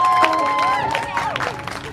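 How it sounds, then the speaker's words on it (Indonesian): Audience applause and cheering at a musical poetry-reading parade at Taman Ismail Marzuki, a steady crowd clapping with sustained musical tones running underneath. "Sekali lagi tepuk tangan yang meriah."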